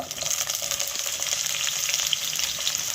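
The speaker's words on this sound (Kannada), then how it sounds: "ಒಂದು ಪ್ಯಾನ್ಗೆ ಆಯಿಲ್ ಹಾಕ್ತಾಯಿದ್ದೀವಿ ಈಗ ಬದನೆಕಾಯಿ ಹುರ್ಕೊಂಬಿಡೋಣ" Brinjal frying in oil in a pan for vangi bath, a bright continuous sizzle with faint stirring scrapes, close and steady.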